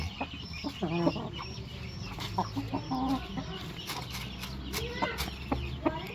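Rhode Island Red and Black Australorp cross chickens cluck and squawk in a farmyard, with several birds calling over one another in short, overlapping bursts at close range, and a faint crow may come through.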